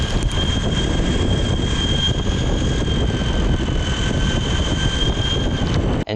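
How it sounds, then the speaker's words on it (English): Exway X1 Pro Riot electric skateboard motor, a steady loud whine with a sustained high tone over a rough rushing roll noise, continuous for the whole stretch with no talking. "this is the sound of the X1 Pro Riot"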